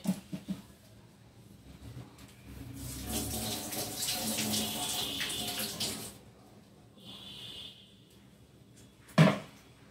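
Water runs from a kitchen tap in a home for several seconds, a steady splashing rush that stops, then returns briefly with a softer trickle. A clunk follows near the end.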